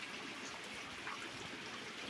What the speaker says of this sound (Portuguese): Muita chuva, graças a Deus